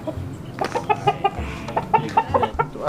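A chicken clucks in a rapid, rhythmic run of short calls, close and clear, with faint rustling in the background.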